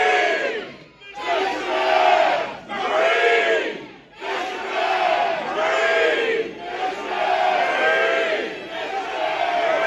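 A large crowd at a fall fishing event yells and screams together on cue, several loud sustained bursts of voices with brief dips between them, close and filling the space.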